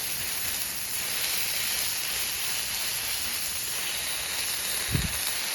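Burgers cooking on a Members Mark 6000 BTU griddle, a steady close sizzle and hiss running unbroken, with one brief thump near the end.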